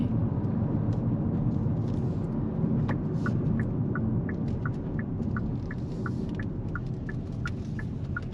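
A 2024 Kia Seltos 2.0L LX Plus accelerating at higher speed, a steady low engine and road rumble with tire roar filling the cabin, joined by a repeating series of faint electronic chimes partway through.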